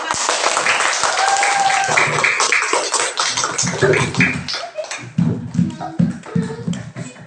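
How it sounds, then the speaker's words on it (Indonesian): Classroom applause for a student group: many hands clap in a dense, fairly loud burst that thins into scattered claps, with voices talking over the end. "Tepuk tangan untuk kelompok 5."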